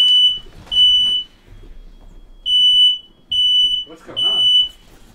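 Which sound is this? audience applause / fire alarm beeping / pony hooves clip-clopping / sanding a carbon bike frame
fire alarm beeping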